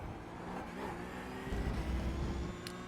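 Porsche Cup race cars in the iRacing simulator, with a steady, droning engine note held under a continuous hum that swells slightly toward the end.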